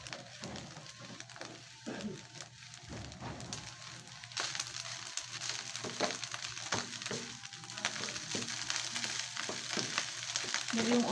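Steady sizzling and crackling of food frying in a pan, fairly quiet and continuous, with occasional soft clinks.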